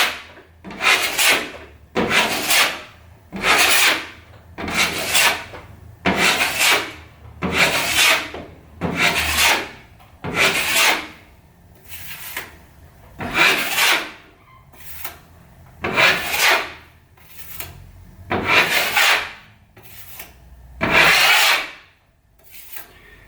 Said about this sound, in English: we'll switch over to the bigger knife. And we can use that to flatten everything out